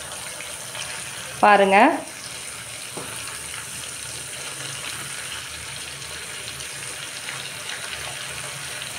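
Chicken 65 frying in oil in a kadai gives a steady, soft sizzle that runs underneath throughout, with one brief spoken word breaking in near the start.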